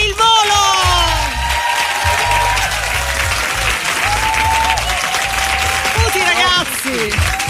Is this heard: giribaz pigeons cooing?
no